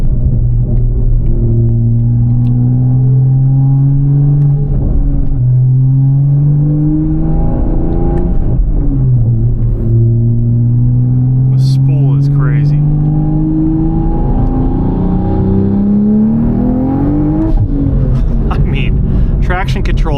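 An 840whp Toyota Supra on E85 pulls hard on the street, its loud, close engine note climbing through repeated rising revs with brief drops between gear changes, while people talk over it.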